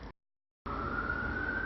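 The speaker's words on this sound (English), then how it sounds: "Hear a siren, 911," A steady, loud siren tone holds continuously after a brief silent gap, with a low rumbling background beneath it.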